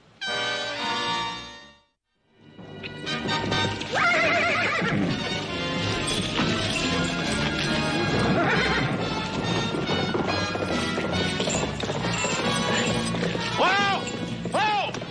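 A horse whinnies loudly and hooves clop repeatedly in a western TV drama scene, with crashes and scattered music, after a brief silent gap near the start.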